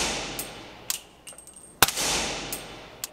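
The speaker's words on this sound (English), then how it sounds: "Since you are shooting suppressed." Suppressed AR-15 rifle shots at an indoor range, several sharp muffled cracks spaced irregularly over a few seconds, each with a short ringing tail, fairly close and without talk.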